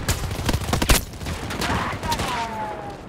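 Dense gunfire rattles through a multiplayer war shooter match, a burst of loud shots around the first second giving way to scattered distant fire and a brief whistling streak, with voices calling out underneath.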